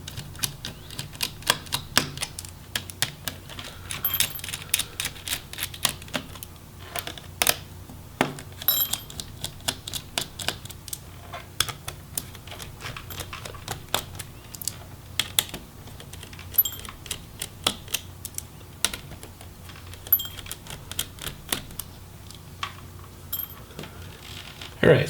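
Screws come out of a Dell Inspiron 15 7570 laptop motherboard: repeated small clicks, taps and metallic ticks from a screwdriver and dropped screws, scattered irregularly and close, with faint talk in places.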